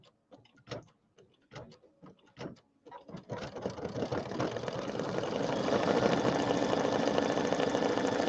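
An embroidery machine stitches a decorative pattern through vinyl. A few separate mechanical clunks come first, then the machine settles into a steady, close, rapid whirring stitch that grows slightly louder.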